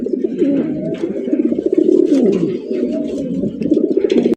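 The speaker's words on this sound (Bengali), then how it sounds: "সাদা ধবধবে একজোড়া কিং কবুতর দেখতেই পাচ্ছেন" A pair of snow-white king pigeons coo close by, their soft, rolling, throaty calls repeating continuously and overlapping without pause, with no other sounds around them.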